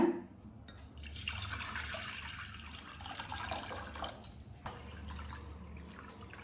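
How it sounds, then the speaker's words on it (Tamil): Four cups of water pour steadily into a pot for making panakam, a continuous splashing rush that shifts in tone, then pauses briefly and resumes. "இப்போ 4 கப் தண்ணி சேர்த்துக்கலாங்க."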